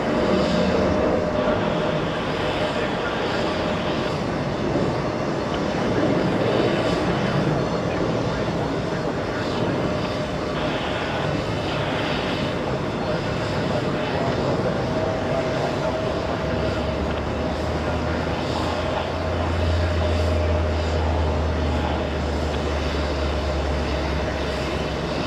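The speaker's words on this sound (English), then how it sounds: "American Airlines, a 737 lifting off, heading to Vegas, heading to Las Vegas" An American Airlines Boeing 737 takes off at JFK, bound for Las Vegas, its engines a steady broadband roar that holds loud for the whole stretch and deepens into a low rumble toward the end, with a voice talking over it.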